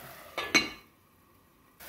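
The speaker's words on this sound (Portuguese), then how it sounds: "Dá mais uma misturadinha e volta a fechar a panela para continuar a cozinhar o espinafre." Spinach being stirred in a covered cooking pan, giving two short scraping, clinking utensil strokes followed by near silence and a brief return of sound at the end.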